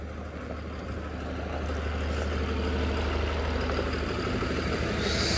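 A Maharashtra state transport (MSRTC) BS6 bus from the Sangamner depot, on the Sangamner–Pandharpur Vithai route, pulls into a bus depot with a steady, loud diesel engine rumble close by. No one talks.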